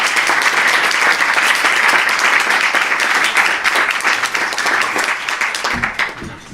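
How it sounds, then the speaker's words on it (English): Audience applause closing a conference panel discussion, dense sustained clapping from a full room that stays loud and even before tapering off at the end. "So a round of applause for everybody."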